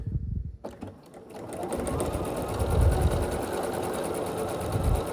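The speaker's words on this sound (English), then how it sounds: "Then we're going to sew across this diagonal." A sewing machine stitches diagonally across a scrappy sampler quilt block, its motor humming steadily and close up for several seconds after a brief quiet start, with no talking.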